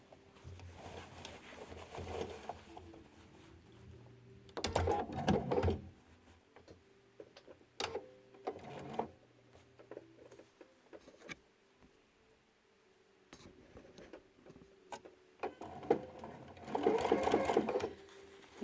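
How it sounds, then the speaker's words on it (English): A sewing machine restitches the corner of a quilt's binding in several bursts of fast, steady stitching separated by quieter pauses, the motor whirring close by. "I'm going to restitch this"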